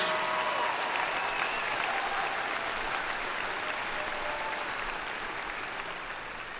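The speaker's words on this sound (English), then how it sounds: "Give them a round of applause." A large crowd at a spring college commencement applauds in a sustained, even wash of clapping that fades slightly toward the end, with no voices over it.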